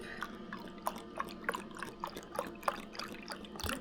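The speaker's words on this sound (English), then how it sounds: "Now we're going to pour in my broth." Low sodium beef broth pours into a pot in a faint, close trickle, broken by soft splashes and small liquid dribbles over a few seconds, with no voices.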